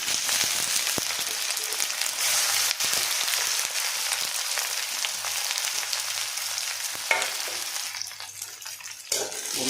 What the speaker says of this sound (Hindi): पर्यंत गोल्डन कलर न हो पर्यंत आम प्याज को भल से तेल फ्राई करूँ